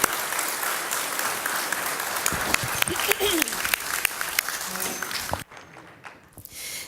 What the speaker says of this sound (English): let's give these three candidates a round of applause as they exit the stage